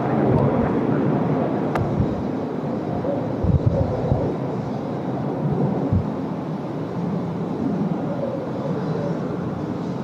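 A jet airliner taking off from runway 34 left at Sydney Airport, bound for Darwin, on a windy night. It comes through as a loud, steady broadband roar lasting throughout, mixed with gusting wind.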